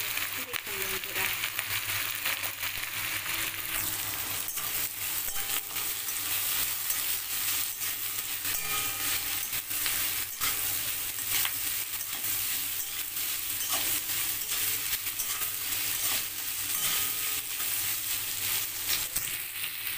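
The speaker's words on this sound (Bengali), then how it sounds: "দিয়ে নাড়াচাড়া করতে হবে" A fish head fries with Malabar spinach in a pan while a spoon stirs and scrapes it, giving a constant close sizzle with crackles and scraping that runs throughout.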